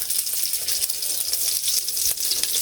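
Bay leaves sizzle in hot oil with a steady, bright hiss and fine crackles, close by and fairly loud, with no talking.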